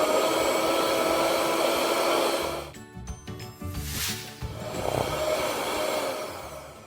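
An electric hand mixer whirs steadily through Victoria sponge cake batter in a bowl, loud and close, then stops partway and restarts with lumpier, uneven churning and knocking as the mix combines.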